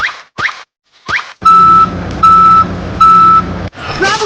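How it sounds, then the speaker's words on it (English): A toy dump truck's reversing beeper sounds three times in a steady rhythm, loud and close, after a few short squeaky noises, while the truck tips sand into a hole on a miniature road-building site. "The dump truck fills the hole with sand."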